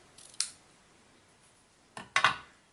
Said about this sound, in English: And I just like to cut them off like on a tapered,